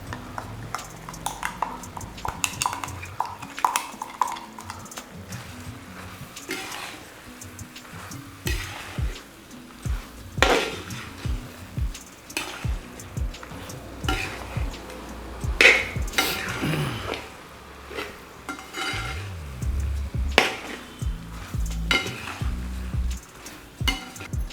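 Chicken kondattam being stirred in a pan with a ground spice paste, a quiet sizzle under repeated scraping and clinking of a spoon against the pan, irregular stirring strokes close by.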